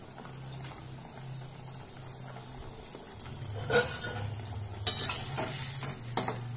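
Chhana (cottage cheese) fritters go into a boiling curry with a low simmering bubble, a few scattered clinks of a utensil against the pot, and a soft stir.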